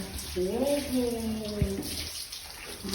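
Running water pours steadily from a tap while a dog is bathed, with people talking over it throughout.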